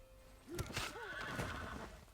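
Horses neigh in the strategy game Civilization 6, two rising and falling whinnies close together with faint hoof clatter behind, fairly quiet.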